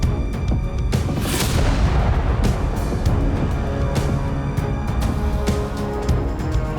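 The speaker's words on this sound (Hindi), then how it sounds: "टैंक के गोले का धमाके का शोर थमता है" Tank shell explosions and booms crash one after another over a constant roaring din in wartime Severodonetsk, Ukraine, loud and close, with sharp bursts scattered throughout.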